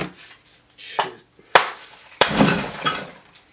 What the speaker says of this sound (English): that was a piece of plaster.